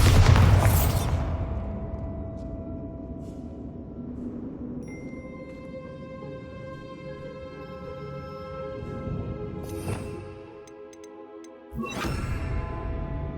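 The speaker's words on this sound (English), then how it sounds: "Another barricade. Considering how well you did on the last one, this should be a cinch. How gracious of you. I try. Bombarda!" Bombarda spell blasting a barricade in Hogwarts Legacy: a loud booming impact at the start, then a lingering tonal magical shimmer and rumble, with another burst of sound near the end.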